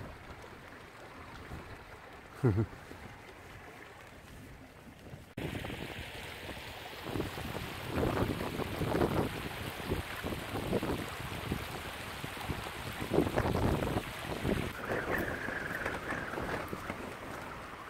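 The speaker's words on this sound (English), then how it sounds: "Some real strong gusts." Strong wind roars and gusts outdoors, a rough, blustery rush that swells and eases repeatedly, loud against the microphone.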